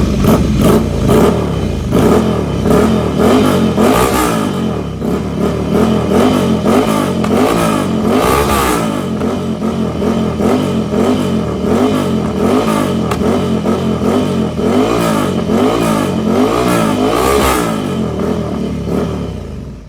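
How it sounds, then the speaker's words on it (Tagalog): A BMW S1000XR or Ducati Scrambler 800 motorcycle engine revs loudly and repeatedly through its exhaust, with rising and falling engine pitch over a continuous roar, close and with no talk over it. "So i-rev natin para marinig nyo."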